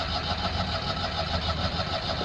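A Citroen 2CV engine that is reluctant to start, heard as a steady, loud, continuous engine drone close by with no talk over it.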